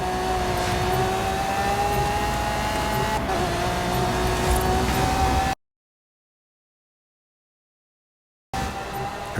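A Lamborghini Centenario engine in a racing video game drones continuously at a steady pitch, loud and close, then cuts to silence for a few seconds before returning.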